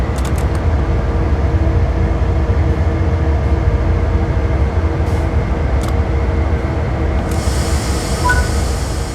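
Simulated ES44C4 diesel locomotive from Train Sim World 3 pulling away from a stop, a loud, steady low engine drone and rumble with faint clicks and a brief hiss near the end, no talk.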